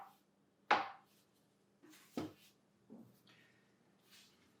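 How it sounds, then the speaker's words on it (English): A bench scraper cuts gnocchi dough into pillows on a board, giving a few quiet, separate taps and chops spaced about a second apart, the first one loudest. "I'm going to take my bench scraper and just cut these into little pillows"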